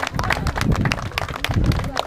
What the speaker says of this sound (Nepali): आजको हाम्रो यो प्रोग्राम अफिसियल सुरु भएको कृपया ताली गर्न चाहन्छु